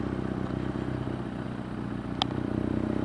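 A BMW R nineT Scrambler motorcycle engine hums steadily on a rainy road ride, with slight throttle variation and a brief sharp clack partway through, under constant road and wind noise.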